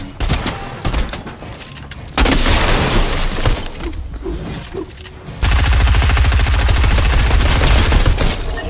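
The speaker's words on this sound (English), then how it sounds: "I am destroying with this pistol right now." Rapid pistol gunfire in a shooter video game, loud and dense bursts of shots that intensify partway through and continue steadily to the end, with sharp impacts layered over the action.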